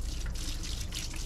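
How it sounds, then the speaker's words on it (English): Water poured over the engine bay of a 2013 Mercedes G63 W463 G-wagon to rinse off spilled coolant, a soft continuous trickle and splash, faint and steady, with no speech. "what I'll do is I'll just pour some down to kind of get"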